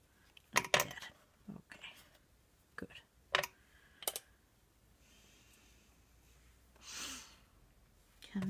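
A few crisp snips and clicks of scissors cutting paper while making a craft journal, close and quiet, spaced irregularly with soft handling noises between them.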